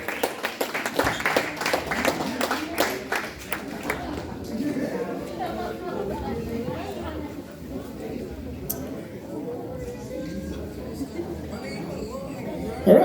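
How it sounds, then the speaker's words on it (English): Crowd at a Red Bull BC One South Africa 2022 breakdancing Q&A claps for guests, a burst of scattered clapping early on that fades into chatter and talk. "So a round of applause for our guest of honors"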